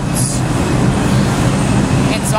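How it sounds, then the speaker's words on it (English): Subway train rumbling into a Manhattan station, a steady loud low-frequency roar with rail noise and faint high squeals near the start and end, continuous throughout. "oh, that's not my train"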